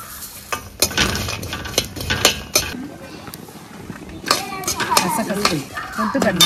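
Sesame seeds tossed into a pan and dry roasted in a country kitchen, with scraping, stirring and metal clinks of a spoon against the pan, some faint sizzling, and a voice speaking at times.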